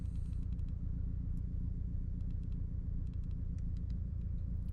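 A 2006 Subaru STi engine holds a steady, loud, buzzing rev against launch control, a close continuous drone with faint crackles and no voices.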